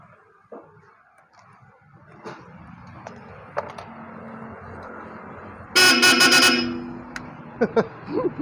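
A car horn sounds one loud, sustained honk lasting about a second, over a steady background hum with a few scattered knocks and faint voices.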